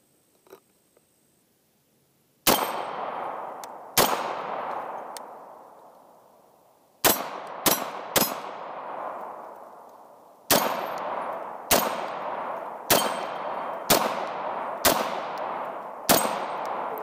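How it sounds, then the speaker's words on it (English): A Sig MPX K fires at steel target plates outdoors, with sharp single shots each followed by a ringing metallic clang that decays slowly, about a dozen impacts at irregular intervals and some in quick pairs. "Go ahead, keep on shooting."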